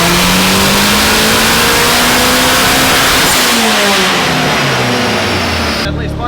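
A BMW E36 with a swapped-in VW 1.8T turbo engine revs hard and loud on boost, the pitch climbing steadily and then falling away as the throttle closes, close to the car.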